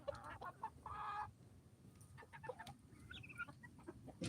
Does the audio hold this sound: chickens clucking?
yes